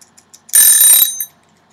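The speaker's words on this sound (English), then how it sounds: "I messed up my timer." A kitchen timer for an oven-baked chicken pot pie rings once in a loud, bright burst of about half a second, with faint clicks before it and a short echo after.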